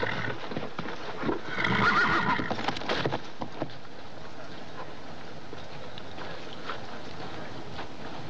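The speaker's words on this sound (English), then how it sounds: "Get a horse ready." A horse whinnies loudly near the start, then hooves clip-clop faintly and steadily against a quiet, hissy background.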